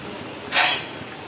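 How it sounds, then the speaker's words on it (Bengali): A lid set down on a pot of chicken bhuna on the stove gives one brief, close clink-and-rattle of cookware with no voice over it. "ঢাকাটা দিয়ে দিলাম"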